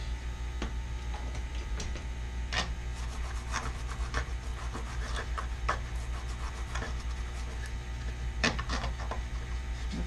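Flux residue is brushed off the circuit board of a damaged MegaSquirt 3 Pro aftermarket fuel and ignition module. Faint, steady scrubbing with scattered small clicks sits over a constant low hum, with no talking.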